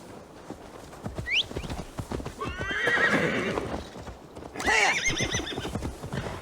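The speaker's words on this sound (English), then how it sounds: "Now to deliver Magni his horse." Horse hooves clip-clop close by in Assassin's Creed Valhalla, and two loud, shrill whinnies rise over the steady trotting rhythm.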